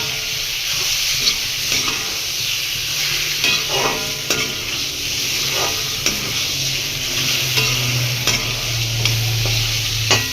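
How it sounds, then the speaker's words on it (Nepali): Chicken fries in a hot pan and is stirred steadily, with a constant close sizzle broken by repeated scraping and clacking utensil strokes, and no voices. "पछि चिकन एड गर्ने। एकछिन यसलाई मजाले चलाउने।"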